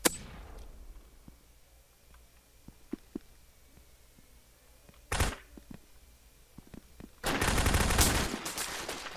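Gunfire in the online shooter game Brain Out: sharp single shots crack out sparsely at first, then a short loud burst mid-way and a sustained rapid volley near the end, with no talking.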